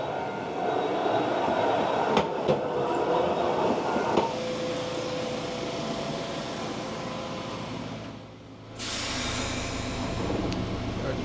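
Interior rumble of a four-car narrow-gauge Hokusei Line train from 1954 to 1977 rolling on rails, steady and close, with a few sharp clanks early on and a brief dip before the noise resumes.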